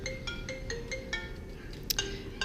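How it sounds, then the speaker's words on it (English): A phone ringtone chimes in a repeating melodic pattern of short tones, moderately loud and close, with a brief sharper blip near the end, heard indoors with no talking over it. "Phone going off."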